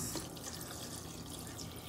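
Spring water is poured over cleaned sea moss in a container to soak, a steady close splashing trickle running throughout.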